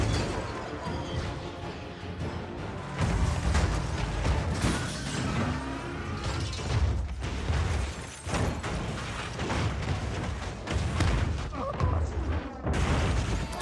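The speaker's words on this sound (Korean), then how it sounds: "수많은 자동차들이 쏟아져 나와 부딪히고 폭발하고 떨어지는 화려한 액션 장면" Fast & Furious 8's zombie car scene in a city street, with a flood of cars crashing, exploding and falling from building floors, heard as dense, continuous rumbling booms, smashes and metallic crashes under a driving film score.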